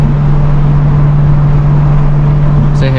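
Porsche 718 GT4, Boxster S 981 and Cupra 290 in a street race, engines accelerating uphill with a loud, steady, sustained drone, close and continuous.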